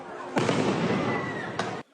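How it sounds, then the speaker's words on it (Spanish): A loud, sustained roar of explosions rumbles on for over a second, with a fresh burst near the end before it cuts off abruptly. "las explosiones resuenan en la distancia"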